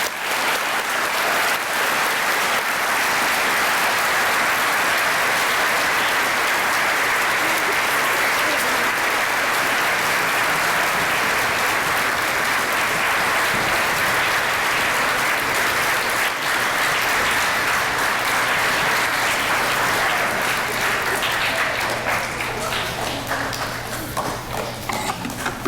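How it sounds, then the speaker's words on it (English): Sustained applause from a school assembly audience honoring veterans at a Veterans Day event, loud and steady for about 25 seconds with no speech, tapering slightly at the very end. "Please join us in a warm round of applause celebrating all our brave veterans today."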